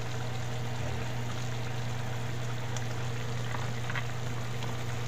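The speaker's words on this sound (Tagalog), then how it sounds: "balik kumukulo na siya" A pot of sweetened sauce bubbles at a low, steady simmer, a soft continuous burble with a constant low hum underneath and no voices.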